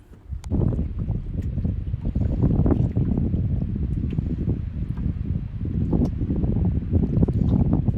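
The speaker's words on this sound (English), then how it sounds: "This is the wind pushing me the other direction." Strong wind gusts across open water while kayaking, heard close on the microphone as a constant loud rumbling buffet, with faint splashes and paddle sounds coming through now and then.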